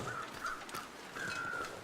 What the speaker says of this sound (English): And I keep hearing crows